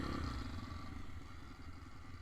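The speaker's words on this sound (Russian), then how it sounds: "Мы ж на мотоциклах." Motorcycle engine running steadily at close range, a continuous low rumble with some clatter and no speech over it.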